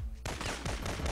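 PK-102 machine gun fire in the Syphon Filter video game: a sudden loud burst of rapid automatic shots, close and dense, running for about a second with no talk over it.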